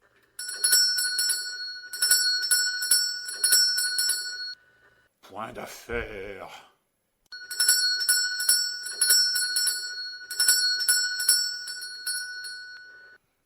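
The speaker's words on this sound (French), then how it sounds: "ma sonnette ne fait pas assez de bruit" A small hand bell rings in rapid, jangling bursts, stops briefly while a person speaks, then resumes ringing insistently and loudly.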